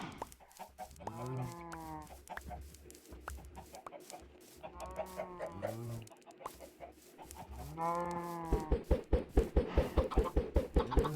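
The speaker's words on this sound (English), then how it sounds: "So we got 2 baby chickens" Minecraft chickens cluck in a blocky farm world, giving repeated nasal bursts in several separate groups, followed by a fast run of sharp rhythmic clicks near the end, with no talking.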